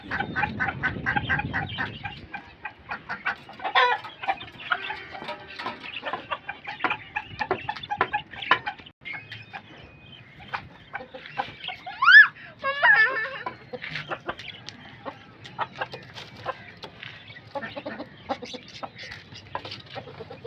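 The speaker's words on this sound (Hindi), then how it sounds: "ये मुर्गा इससे लड़ने की कोशिश कर रहा था ऊपर वाले मुर्गे से" Roosters cluck and squawk in short, busy bursts while one tries to fight another, close by, with a person talking quietly at moments.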